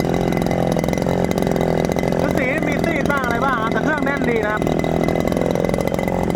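A Robin 411 brush cutter engine runs steadily at a close, constant idle-like drone, with someone talking over it.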